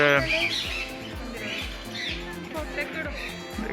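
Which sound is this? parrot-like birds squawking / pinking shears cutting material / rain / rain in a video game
parrot-like birds squawking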